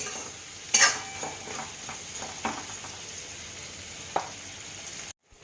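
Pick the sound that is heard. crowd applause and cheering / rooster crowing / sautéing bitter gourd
sautéing bitter gourd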